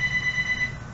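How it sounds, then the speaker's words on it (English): A phone rings with a steady electronic tone over a low room hum, faint and in the background before it stops partway through. "my phone is ringing"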